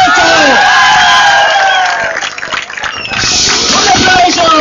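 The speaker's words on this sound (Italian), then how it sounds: "Un applauso sulle mani." Large crowd at a boxing match cheering and whooping loudly after a technical knockout win, with shouts and voices rising over the continuous roar, dipping briefly midway before swelling again.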